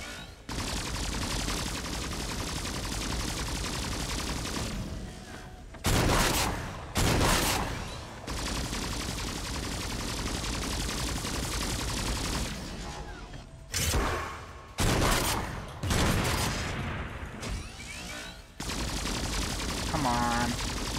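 Rapid gunfire and blasts from turrets in the video game Agents of Mayhem come in sustained dense bursts with short pauses, loud and continuous, with occasional game voices beneath.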